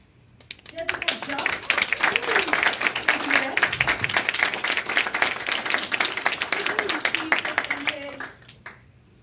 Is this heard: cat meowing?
no